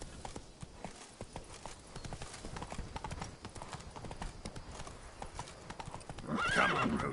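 Roach the horse from The Witcher 3 gallops in steady, rapid clip-clop hoofbeats, with a loud whinny near the end; a voice calls to the horse.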